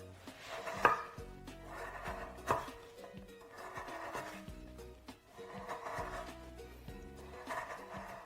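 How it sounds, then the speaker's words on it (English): A knife repeatedly cuts and scrapes an ingredient into smaller pieces on a board, with rasping, wooden strokes that recur about once every second, close and moderately quiet. "So we need to carefully cut them into smaller and smaller pieces."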